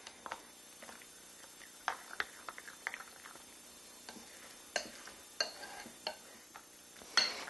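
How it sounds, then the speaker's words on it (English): A spoon stirs tzatziki mixed with crushed garlic in a bowl, giving soft, irregular scraping and light tapping against the dish, quiet and close with no voices. "you need to make sure you mix it well, incorporate that garlic in there"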